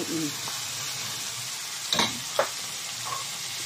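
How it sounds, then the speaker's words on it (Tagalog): Bitter gourd (ampalaya) stirred and frying in a pan, a steady sizzle with a few sharp utensil scrapes and clinks against the pan, close and moderately loud. "Diyan na ako ngayon maghalo-halo ng aking ampalaya, guys."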